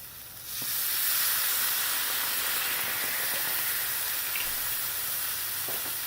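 White wine and the white parts of green onions sizzle in a hot pan, a loud, steady hiss of steam and frying that flares up after a quiet start and then holds evenly, with no voices.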